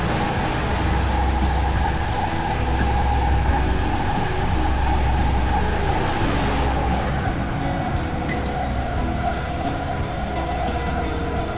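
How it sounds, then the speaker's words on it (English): A train travelling in the video game Dreamfall, a steady low rumble and rolling drone that holds loud and continuous throughout, with no talking over it. "we're taking the train from Africa to North America."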